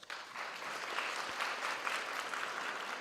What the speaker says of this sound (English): Can you applaud yourselves?